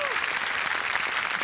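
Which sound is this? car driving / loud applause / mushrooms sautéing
loud applause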